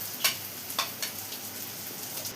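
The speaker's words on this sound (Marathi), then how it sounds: "आता हे बोंबील आपण तेलामध्ये कांद्याच्या तेलामध्ये चांगलं परतून घेणार आहे." Dried bombil fish sautés in oil with onion and tomato, giving a quiet, steady sizzle punctuated by a few soft clicks from a stirring utensil.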